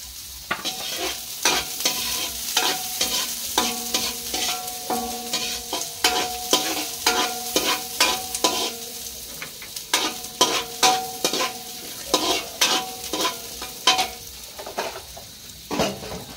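Onions stirred and fried in a home kitchen pan, a steady sizzle broken by repeated scraping strokes of a utensil, close and fairly loud with no talking.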